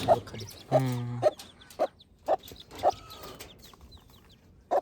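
A hen on a farm clucks in short, separate bursts spaced about half a second to a second apart, one longer drawn-out call early on, close and clear over quiet surroundings.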